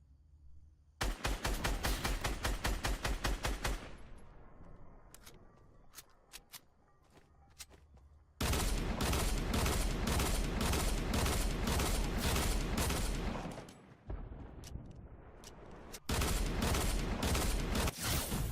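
Rapid automatic gunfire in the Fortnite video game rattles out in long sustained bursts, separated by a few brief pauses and scattered single shots, loud and dense with no talking.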